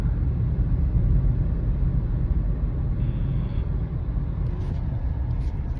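Road traffic in Makati after rain: a steady, low, droning rumble of vehicles with no distinct passes, moderately quiet and constant throughout, with no one speaking.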